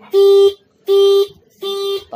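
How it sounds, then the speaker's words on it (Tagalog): A cheap motorcycle killswitch alarm beeps in three loud, steady electronic tones, each about half a second long with short gaps between them, close by and with no talk. "Mag-a-alarm siya."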